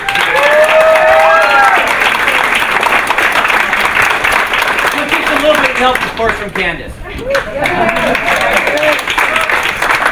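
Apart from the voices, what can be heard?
audience applause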